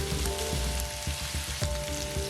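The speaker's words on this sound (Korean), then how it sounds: "우삼겹에서 기름이 나오면 마늘과 버섯도 넣고 볶아줍니다" Beef brisket slices frying with garlic and mushrooms in a pan, giving a steady, close crackling sizzle with small irregular pops throughout, no voices.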